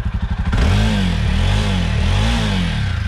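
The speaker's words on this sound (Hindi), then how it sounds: "तो ये कुछ पैराक की साउंड है" A Jawa Perak motorcycle engine runs close by with some engine vibration noise, revved in a few repeated swells that climb and drop back to a throbbing idle.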